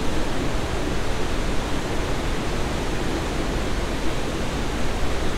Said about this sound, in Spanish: es la cascada de aguas negras más bonita que he visto